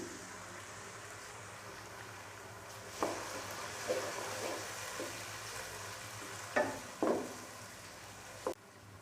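Chopped tomatoes fry in a pan with low, steady sizzling, with several soft thuds and stirring scrapes at intervals. No voices.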